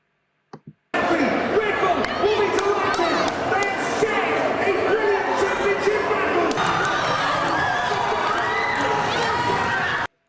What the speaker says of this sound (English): Oh, we're clapping there.